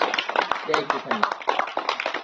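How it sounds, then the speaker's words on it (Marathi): Brisk applause from a group, dense and steady, with overlapping claps filling the short stretch. "या सर्वांनी जोरदार टाळ्या वाजवून त्यांचं अभिनंदन करायचं आहे."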